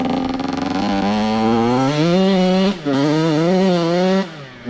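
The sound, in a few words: dirt bike engine revving in mud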